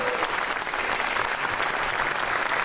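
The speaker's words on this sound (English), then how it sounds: "One more round of applause for all students who performed tonight so far." A high school audience at a jazz night applauds for the student performers in a steady, dense burst of clapping that fills the room throughout.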